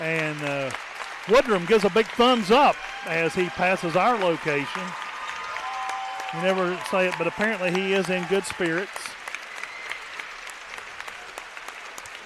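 A crowd applauds in a gymnasium at a boys' high school basketball game, Nitro Wildcats versus Scott Skyhawks, a steady wash of clapping held under continuous commentary from a nearby announcer.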